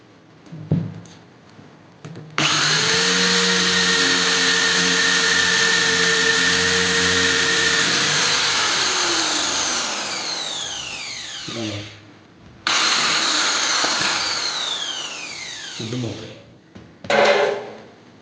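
A power drill fitted with a single multi-purpose bit bores through a one-inch-thick piece in a loud, close, sustained whine of about ten seconds, followed by a second long run and a brief final burst.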